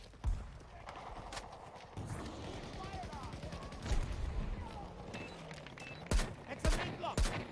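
XM rounds fire in the Battlefield 2042 shooter, heard as a burst of sharp gunfire reports that comes in clusters near the end. A voice can be heard talking under the in-game clatter.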